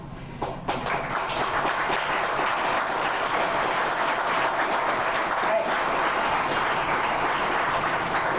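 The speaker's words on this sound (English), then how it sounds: "I want to clap for you" An audience at a credit union ribbon cutting gives sustained applause for the city council and mayor, a dense, even roar of clapping that runs steadily for several seconds.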